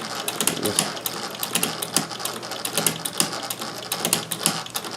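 A Singer 201K sewing machine stitching with a hemstitcher attachment, producing a fast, steady mechanical clatter of needle and gears with a rapid ticking rhythm, close and continuous without talk.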